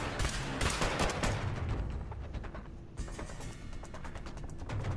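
Gunfire in Fallout Shelter on PS4, dense rapid bursts of shots with mechanical clatter, loud and continuous, with no talk over it.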